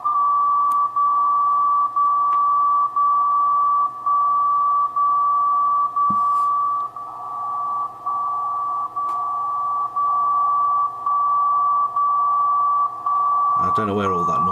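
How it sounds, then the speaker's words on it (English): VLF radio receiver hissing with a thick, powerful band of noise under a steady loud beeping tone that pulses in a regular rhythm, with a brief crackle partway through and a burst of rustling at the end. "It's a pretty powerful thick band of noise there in the middle."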